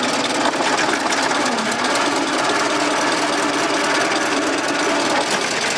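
A 1914 Ford Model T engine runs steadily and loudly throughout, a dense, fast mechanical clatter with no pauses and no voices over it.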